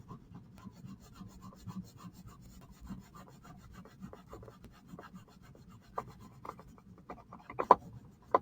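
Crayons rubbing across paper during colouring, a soft continuous scratchy scrubbing in close strokes with a few sharper taps near the end.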